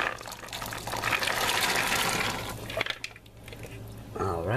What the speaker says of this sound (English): I'm going to add these beans to the pot.